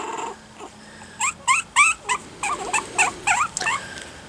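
A three-week-old puppy whimpers and yelps in a quick series of high, whiny cries, close by, with short gaps between them and no talking.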